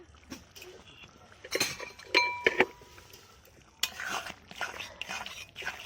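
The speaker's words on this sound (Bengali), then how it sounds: "ঢাকনাটা দিয়ে দিলাম এবার খুলে দেখছি ঢাকনাটা কেমন হলো" A lid clinks and scrapes as it is lifted off a pot of ol dal, an elephant foot yam lentil dish cooked with rohu fish head, with several sharp metallic taps and rattles in a home kitchen.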